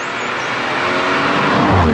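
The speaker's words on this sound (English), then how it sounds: "Make no mistake, this is a monster engine." A BMW M140i Shadow Edition hatchback with a powerful engine drives along, a loud, steady roar of engine and road noise building slightly toward the end.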